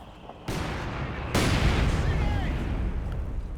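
A mortar barrage strikes in Company of Heroes 2, with a sharp loud onset of blasts and rumbling fire stepping up twice into a dense, sustained wash of battle noise, plus a brief faint whine.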